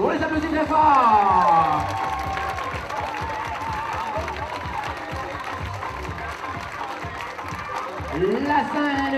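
School show audience applauding students after a temple scene, broad crowd clapping with some cheering, under a presenter's voice speaking French over it.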